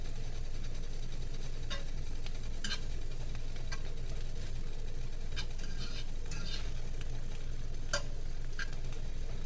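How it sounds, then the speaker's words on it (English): Ingredients for a cheap bean soup stir fry in a frying pan, a steady low sizzle with scattered sharp clicks and scrapes of stirring, no talking. "I put it in this frying pan here so y'all can see me frying up this stuff, like stir frying it"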